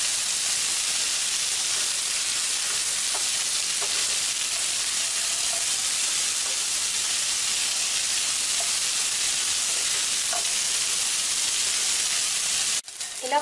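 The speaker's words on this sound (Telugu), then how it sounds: "దొండకాయ ఫ్రైని మూత పెట్టకుండా వేసుకోవాలి." Ivy gourd (gherkins) fries uncovered in a pan, giving a continuous, even hiss and sizzle with faint pops throughout and a brief clatter at the very end.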